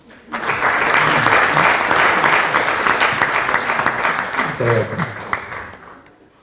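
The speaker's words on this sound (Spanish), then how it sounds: "Recibámoslos con un cordial aplauso." Sustained audience applause greeting a speaker at a data science and precision medicine lecture, dense and steady clapping from a large hall that fades out toward the end, with a brief voice murmur near the close.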